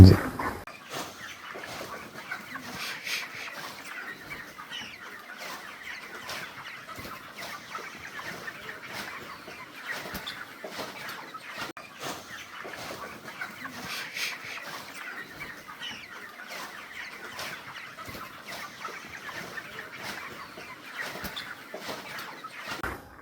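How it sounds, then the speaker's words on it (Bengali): A flock of broiler chickens on a poultry farm keeps up continuous faint clucking and scattered calls, a busy low chatter throughout with no voices over it. "এই যে ব্রয়লার মুরগি পালন করতেছেন এটা আপনার শুরু কতদিন থেকে"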